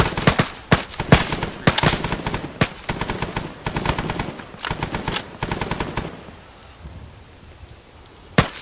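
Bursts of machine gun fire with tracers in a Vietnam-era shooter game, loud rapid volleys in short repeated strings, then a quieter stretch of rustling ambience before a final sharp shot.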